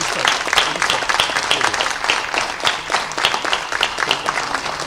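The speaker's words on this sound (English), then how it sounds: "Can we have a big round of applause for all the speakers?" A lecture-hall audience gives sustained applause for the speakers at a public talk, a dense, steady wash of many hands clapping close by with faint voices underneath.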